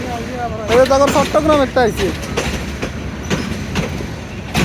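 The Chattala Express intercity train passes close by with rumbling wheels, squealing tones and rhythmic clatter, while people talk over it.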